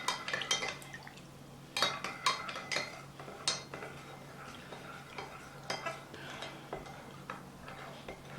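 A spoon stirring beef sandwich filling with beef base and water in a pot, a run of irregular clinks and scrapes against the metal, fairly close and moderately quiet.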